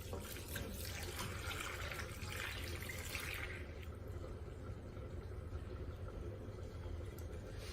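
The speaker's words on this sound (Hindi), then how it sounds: "ये आप पे दूध डाल देंगे।" Milk pours into a pot for a carrot halwa, a close, continuous liquid rush that softens partway through while a low background rumble persists.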